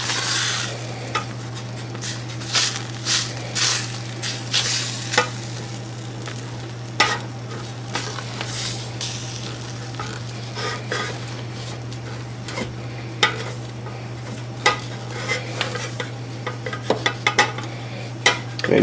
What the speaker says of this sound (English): And use the back of the spoon to pick up all the bits from the bottom of the pan.